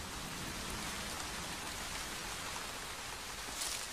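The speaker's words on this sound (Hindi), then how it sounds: "ये मॉनसून से पहले की बारिश है, वैसी मूसलाधार बारिश नहीं जिनका इन्हें इंतजार है" Light pre-monsoon rain falls steadily in Indian forest wildlife habitat, a dense, even patter of drops on surfaces, soft and continuous throughout with no voices.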